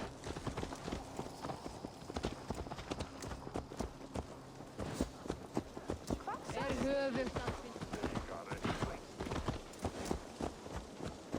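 Horse hooves clip-clop at a steady walking pace in Assassin's Creed Valhalla, close by, with voices talking over them and a brief horse whinny partway through.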